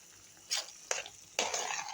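Tomatoes fry with salt and chili in a hot pan at home, and three bursts of sizzling and stirring rise over a quiet background.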